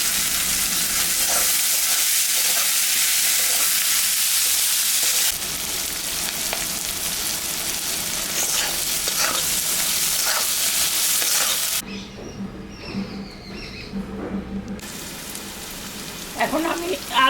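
Onion, green chili and garlic frying in a pan for a home-style egg curry, sizzling steadily and loudly at close range, with stirring scrapes and a quieter stretch near the end.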